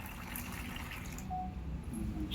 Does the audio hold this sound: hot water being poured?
yes